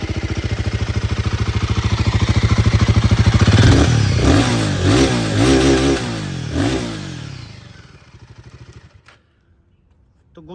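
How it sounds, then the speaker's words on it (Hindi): A Royal Enfield Guerrilla 450 motorcycle engine idles loudly up close, then revs in several quick blips before being switched off, leaving near silence at the end. "तो गोरिल्ला 450 का साउंड कुछ इस तरह का आता है।"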